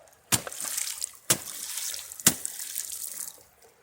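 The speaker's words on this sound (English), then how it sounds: "Let's put it in some more deeper water." A homemade fire starter is pushed into deeper water, giving three sharp splashing plunges followed by bubbling, trickling water, close and fairly quiet.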